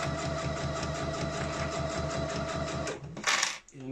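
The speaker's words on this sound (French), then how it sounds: "c'est la machine Rubina et c'est l'entrée de gamme des machines à coudre électroniques chez Veritas" A Veritas Rubina entry-level electronic sewing machine stitching steadily with a fast, even mechanical whir and clatter for several seconds, then stopping with a brief click, close up and with no talking.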